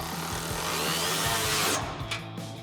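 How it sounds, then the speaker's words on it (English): A support bolt on a RAM 2500 drop side step bar is tightened with a 13 mm socket and wrench, giving a run of close, rhythmic ratcheting clicks over a loud, continuous rushing background. "Then we'll tighten down our support bolt, so we'll need our 13 millimeter wrench and 13 mil socket for that."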